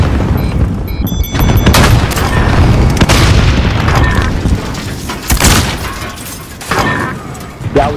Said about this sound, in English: This is an airstrike.